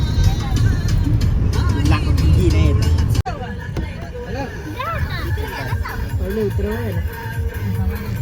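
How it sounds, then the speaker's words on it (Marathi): A dog barks and yips several times amid chatter and background voices, with a vehicle rumbling underneath, the barks fairly close. "तो आमच्या मावशीचा कुत्रा."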